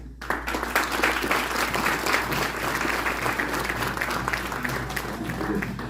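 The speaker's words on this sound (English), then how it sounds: "Give her another applause, folks" Steady applause from an audience fills the whole stretch, dense and even, with many hands clapping at once at a moderate distance.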